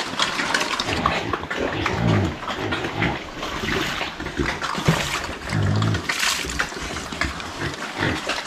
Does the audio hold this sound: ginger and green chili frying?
no